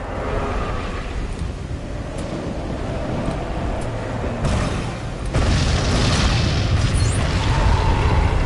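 Fuel drums blowing up in the Lego Jurassic World video game, Jurassic Park 3 story mode: deep booming blasts over a rumbling bed, a heavier burst landing near the end and lingering.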